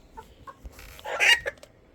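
A broody hen clucks a few times, then lets out a louder, drawn-out squawk near the microphone before quieting again.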